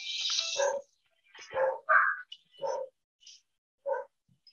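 Dogs bark in a series of loud, close, sharp barks, some overlapping in quick bursts, with short gaps of silence between them.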